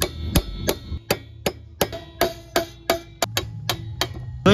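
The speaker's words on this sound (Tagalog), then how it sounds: "Also martilyo, pupukpukin po natin yan." A hammer taps repeatedly on a motorcycle center stand during maintenance, sharp metallic strikes in a steady rhythm of about two or three per second, close and clear with no talking.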